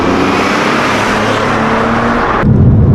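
A BMW E36 engine revs hard under acceleration, a loud, sustained roar with a rising tone, swelling into a deeper, heavier rumble near the end.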